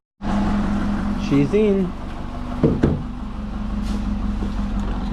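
A Subaru rolls into a garage with a low, steady engine idle and rumble, broken by a few knocks and clunks, while a person speaks briefly over it.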